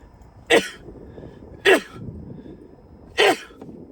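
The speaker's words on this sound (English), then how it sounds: "those were real sneezes" Three loud sneezes in a row, spaced about a second apart, close up against a quiet background.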